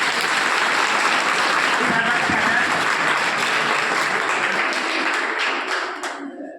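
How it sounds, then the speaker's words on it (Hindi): An audience bursts into loud, dense applause to welcome a guest on stage, the clapping holding steady for several seconds before tapering off at the end. "आइए जोरदार तालियों सर का स्वागत कीजिए"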